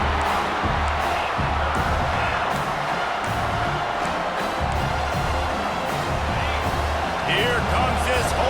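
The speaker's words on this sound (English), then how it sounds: "These fans are going absolutely nuts." A loud home crowd roars steadily in a football stadium as the defense faces third down, a dense continuous wall of cheering with a commentator talking over it throughout.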